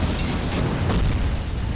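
A grenade goes off in RoboCop: Rogue City, a loud, close, broadband blast whose rumble fills the short moment with no speech over it.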